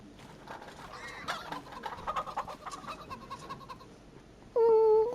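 Chickens clucking in the Farm Sim 25 farming video game, a steady scatter of soft clucks and bird chatter, then a louder tonal game sound at the end.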